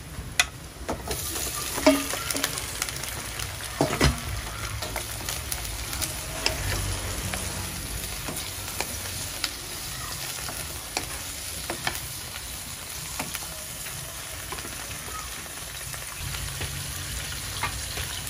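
Sponge gourd (patola) sizzles as it fries in hot oil, with steady stirring and scraping running throughout, alone and close, with no talk.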